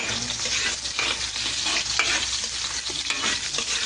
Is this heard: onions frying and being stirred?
yes